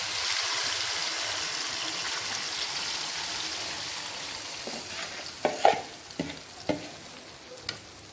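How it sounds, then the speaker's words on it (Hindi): Marinated beef hits hot ghee in a karahi, giving a steady broad sizzle that settles into continuous frying, then a few sharp scraping clinks of a spoon stirring near the end. "अब हम इसमें अपना मैरिनेट किया हुआ बीफ डालेंगे।"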